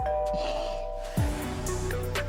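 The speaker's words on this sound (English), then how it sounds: "doorbell." A doorbell rings with a clear ding-dong chime over a steady background hum.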